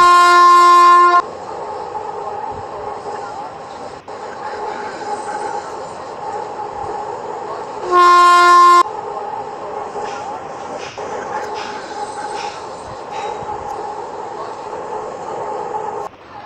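Indian metro train in a video game sounding two long, loud tonal horn blasts, one at the start and another midway, between stretches of steady rolling train rumble with a synthetic announcement voice over it.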